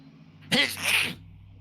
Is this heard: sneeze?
yes